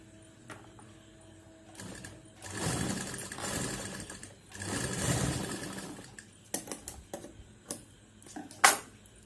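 An electric sewing machine stitches face mask fabric in two sustained whirring runs, separated and followed by quieter clicks, taps and fabric handling close by.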